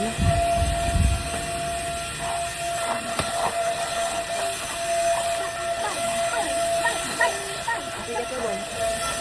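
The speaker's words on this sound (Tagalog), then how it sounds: "And then, konting vacuum." A vacuum cleaner runs at home during a morning cleaning routine, a steady whining drone with a constant high tone and scattered knocks and clatter, close and continuous throughout.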